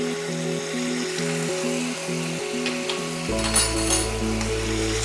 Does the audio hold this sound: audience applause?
no